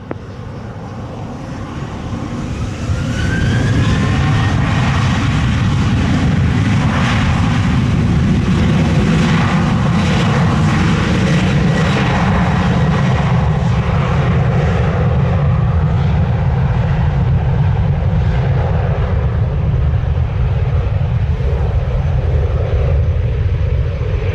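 A Southwest airliner takes off from runway 07 at an airport in Jamaica, its engine roar swelling after a few seconds into a loud, sustained jet rumble and whine that holds steady to the end.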